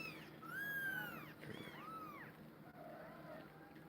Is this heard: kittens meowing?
yes